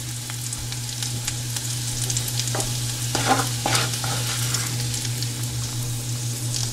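Onions browning in a pan on the stove while cooking bisibelebath, with a steady sizzle over a low hum and scattered scraping stirs of a spoon against the pan.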